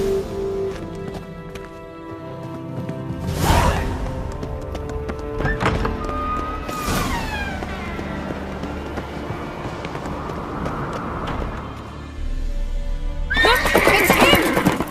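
Horses in The Witcher 3 whinny loudly, with a long neigh early on and another near the end, over thudding hooves and clip-clop as riders set off. Other game sounds mix in around them, and there is no speech.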